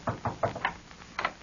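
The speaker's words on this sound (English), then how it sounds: "There's someone at the door." Two groups of knocks on a door in an old radio drama, three quick raps, then a short pause and a couple more, crisp and fairly close with no talking.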